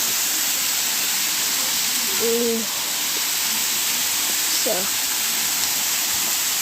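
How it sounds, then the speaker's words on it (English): A waterfall on a nature hike gives a constant, broad rushing roar that fills the whole clip steadily, with a couple of faint brief voice sounds over it and a single spoken word. "Okay, near to the waterfall."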